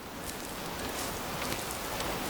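Steady rain falling in the video game Way of the Hunter, by a river, as a dense, even hiss, continuous and fairly loud with no voices.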